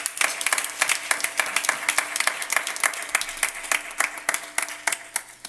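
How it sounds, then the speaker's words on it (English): A church congregation claps, a fairly steady, moderately loud round of hand claps from a modest crowd in an indoor sanctuary, continuing evenly for several seconds. "Let's give them a round of applause."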